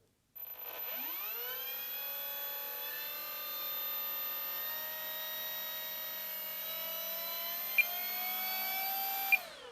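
An Arrows RC P-51 Mustang 850mm warbird model spools up its electric-driven propeller, a sudden whine rising in pitch then holding a steady high drone close by, with two faint clicks near the end.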